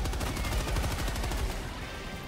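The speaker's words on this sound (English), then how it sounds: "Time to unleash hell with our big machine gun." Rapid, steady machine gun fire from a big machine gun in Helldivers 2, a dense rattling burst of evenly spaced shots that runs loud and close for the whole stretch.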